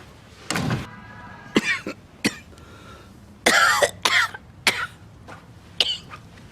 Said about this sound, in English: It's a nasty cough you got.